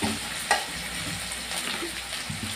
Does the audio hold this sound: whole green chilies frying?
yes